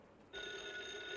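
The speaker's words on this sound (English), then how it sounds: "Excuse me, I'll have to get the phone." A telephone bell rings once, a bright, sustained ringing tone that starts abruptly after a short quiet pause and continues to the end.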